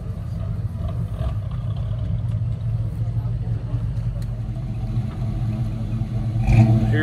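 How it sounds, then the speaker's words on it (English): Late 60s or early 70s Chevy four-wheel-drive pickup backing in at a classic car show at Sugar Creek Raceway, its engine a steady low rumble that swells louder near the end, with people talking over it. "late 60s, early 70s Chevy pickup truck here, 4-wheel drive. Backing in there."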